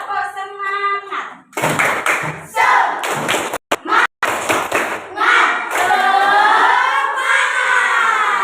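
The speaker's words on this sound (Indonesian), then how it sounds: "kita main tepuk semangat" Children in a classroom play tepuk semangat, a rhythmic clapping game, with bursts of sharp hand claps and thumps in patterns alongside chanting voices.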